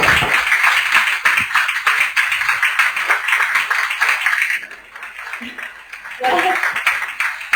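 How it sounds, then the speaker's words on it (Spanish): Audience applause at a doctoral thesis defense, a dense sustained clapping that fills the room, thins briefly near the end, then swells again, with voices faintly mixed in. "Oye, tus aplausos."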